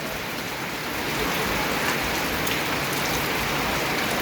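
Rain pours down steadily in a dense, even wash of drops striking surfaces, loud and continuous and without voices.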